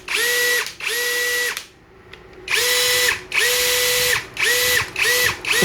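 Isku 21V cordless drill revving loudly in repeated bursts with a smooth whine, each burst followed by a drop as the trigger is released, with one longer pause partway through.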